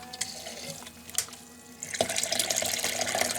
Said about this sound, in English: you'll see that the water's flowing just fine